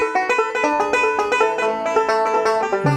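Bluegrass music with quick, bright plucked strings like banjo or guitar picking out a rapid steady rhythm, clear and moderately loud with no voices.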